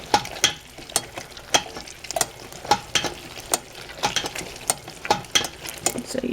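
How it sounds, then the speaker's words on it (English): A hand-cranked food mill turns as it presses tomatoes for sauce, producing a regular series of sharp metallic clicks and scrapes about twice per second over a soft squelchy background, close and clear with no voices. "this food mill, and then you rotate, and while you're doing that, it's compressing everything and pushing it out the bottom"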